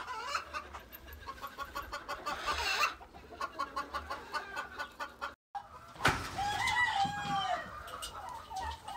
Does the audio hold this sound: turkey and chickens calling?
yes